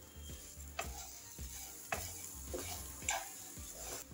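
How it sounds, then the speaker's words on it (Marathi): Coconut and sugar filling being stirred in a pan, a soft sizzle under repeated scraping strokes of a spoon at an uneven rhythm, close but quiet. "2 ते 3 मिनिट आपण हे छान सारण परतवून घेतलेलं आहे."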